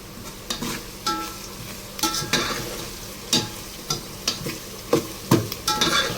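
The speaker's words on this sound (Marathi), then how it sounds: "कांदा छानपैकी आपला हे झालेला आहे फ्राय आपला होतोय" Onions for chicken biryani sizzle in a pan while a spoon stirs them in a steady rhythm of scraping strokes roughly every half second, close and fairly loud over the constant frying hiss.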